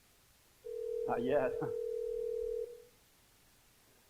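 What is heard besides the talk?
telephone dialing and ringing while calling listing agent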